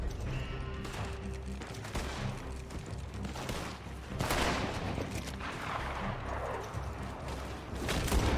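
Gunshots in the video game Red Dead Online, a dense spread of overlapping shots and crackling fire at a middle distance, continuous and fairly rough across the whole stretch.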